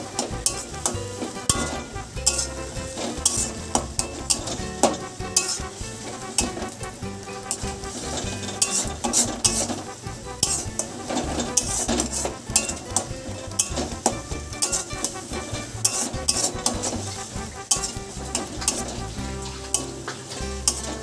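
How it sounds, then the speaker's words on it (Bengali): Curry leaf paste is stirred in a pan until its water dries off: a continuous frying sizzle under brisk, rhythmic spatula scrapes and occasional metallic clinks, close and steady throughout, with no voices. "এবার এটা ভালো করে নেড়ে জলটা টানিয়ে একদম শুকনো করে"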